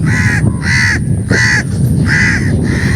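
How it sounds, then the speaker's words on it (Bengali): Crows cawing beside a flooded wetland, loud harsh calls in a rhythmic series of about five caws, close by. "কাকগুলো এখন আমাকে বিরক্তি করতেছে"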